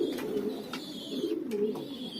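Loft pigeons give a couple of clear rolling coos close up, one bird after another, against a steady background hum.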